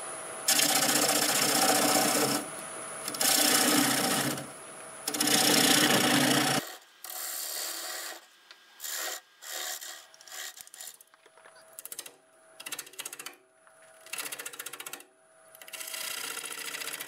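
A wooden bowl spinning on a wood lathe as its surface is flattened, with loud, sustained rasping scrapes in three long passes, then a quieter run of short, broken scraping strokes separated by pauses, all close up.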